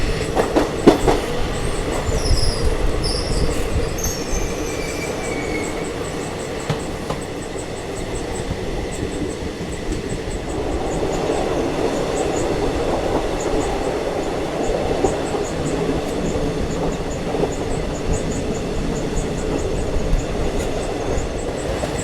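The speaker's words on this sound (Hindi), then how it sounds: "हमारी पहली क्रॉसिंग हो रही है बीदार CSMT मुंबई एक्सप्रेस के साथ, जो कि वैब 4 लोकोमोटिव के साथ हमें क्रॉस कर रही है।" From aboard the Ahimsa Express, the Bidar–CSMT Mumbai Express hauled by a WAP-4 electric locomotive passes close alongside. A steady rumbling clickety-clack of wheels carries brief high squeals throughout, loud and continuous.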